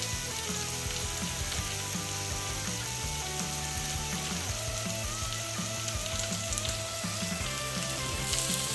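A seeded, deveined jalapeno hits a hot pan and sizzles steadily, a loud, dense, unbroken frying hiss with faint crackles and no talking.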